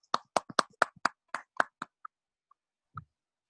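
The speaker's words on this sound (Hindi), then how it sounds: "एक जोरदार और धमाकेदार तालियों से उनका स्वागत करें" A short burst of scattered hand claps welcoming a guest to a Zoom meeting, about a dozen sharp claps in quick succession thinning out to a few isolated taps, faint and close.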